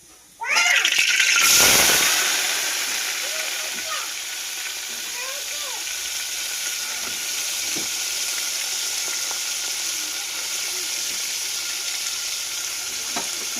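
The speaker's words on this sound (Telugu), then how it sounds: "ఆయిల్ అయితే బాగా హీట్ ఎక్కింది కదండి, ఇంకా కడిగి వేసుకున్న చేపలను అయితే వేసేసుకుందాము" Washed fish drop into well-heated oil in a home kitchen and burst into a loud sizzle that settles into a steady bubbling fry, with faint clinks of stirring.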